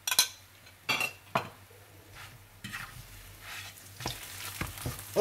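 Egg paratha cooking in butter or oil in a pan, with a steady soft sizzle broken by several sharp clinks and scrapes of a utensil against the pan, close and without talk.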